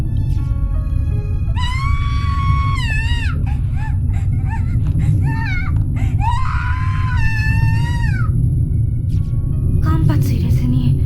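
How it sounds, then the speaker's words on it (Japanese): Girl screaming in the Corpse Party horror video game: repeated piercing, wavering shrieks in long bursts over a constant loud low rumble, with shorter stuttering cries between them. "the first of the girls in line is the next to scream for her life"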